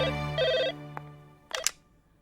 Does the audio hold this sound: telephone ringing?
yes